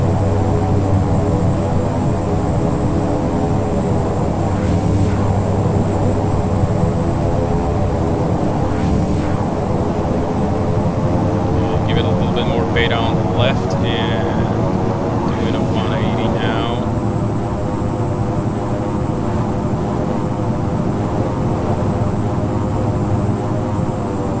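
Beechcraft 1900D turboprop in X-Plane 10 taxiing with beta applied, its propeller engines giving a loud, continuous drone throughout, with talking over it.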